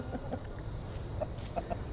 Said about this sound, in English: the big rooster, the white chicken, one of these